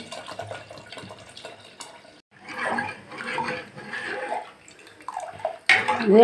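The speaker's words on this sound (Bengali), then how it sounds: "এবার আমি জলটা দিয়ে দিচ্ছি" Water being poured into a pot of chana dal cooking with potato, tomato, salt, turmeric and chilli, a splashing, gurgling pour that swells in several bursts, close and moderately loud.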